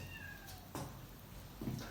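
A cat meows faintly a few times in quick succession, short thin cries spaced across a quiet indoor moment with no talking.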